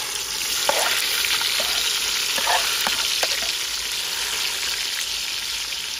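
Medium-sized chopped onions hit hot oil in a village kitchen pan while cooking mutton masala, a steady loud sizzle with occasional sharp pops and stirring scrapes, no voices.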